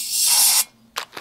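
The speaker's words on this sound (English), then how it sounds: "Definitely going to spray it with a bit of brake cleaner." Brake cleaner sprays in one steady hissing burst of about half a second during a Range Rover L322 service, followed by two short quieter spurts.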